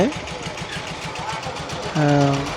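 A steady, rhythmic engine chugs throughout, a motorboat motor thrumming close by on the waterway to Bholaganj Sada Pathor, Bangladesh, with a voice speaking briefly over it near the end.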